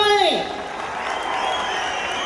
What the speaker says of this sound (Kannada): ಜೋರಾಗಿ ಚಪ್ಪಾಳೆ